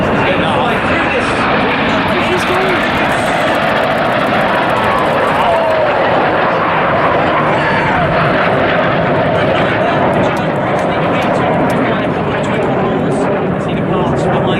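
A Red Arrows jet at the 2017 Duxford Airshow sweeps past very fast, its loud, continuous roar filling the whole stretch and swelling and fading slightly, with commentary voices underneath.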